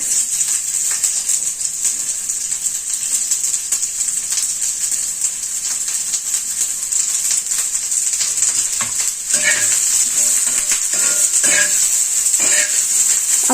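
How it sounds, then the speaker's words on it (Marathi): Masala frying in about a spoonful of oil on a tawa gives a continuous bright sizzle, close and steady, with a few metal scrapes and clinks from stirring toward the end. "तर आता आपण तव्यात थोडंसं तेल टाकून हा पूर्ण मसाला भाजून घेऊ"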